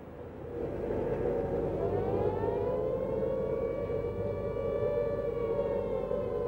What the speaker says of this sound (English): The siren sound that Londoners had heard in daylight from time to time during August